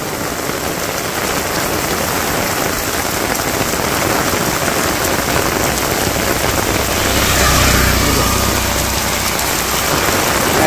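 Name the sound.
rain falling on a paved village road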